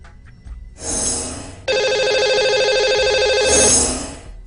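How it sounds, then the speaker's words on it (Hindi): A telephone rings on an outgoing call to a lucky caller on a live TV show, a loud electronic ring tone in a sustained burst after a short earlier chirp, alone without talk. "लगाते हैं इन्हें अब हम कॉल।"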